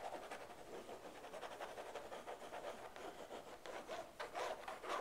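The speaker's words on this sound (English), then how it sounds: "I'm going to bring in some of the oil pastels again. They're going to act a little bit different on canvas, aren't they?" Oil pastels dragged across canvas give a continuous dry scratchy rubbing, with strokes rising and falling in a steady close texture and getting a little stronger toward the end, and no voice.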